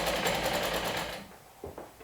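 A sewing machine stitches a plush blanket made from two adult toppers, running in a loud, steady whir that stops partway through and leaves a few soft handling bumps.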